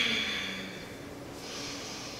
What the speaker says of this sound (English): Take a big breath in, take a big breath out.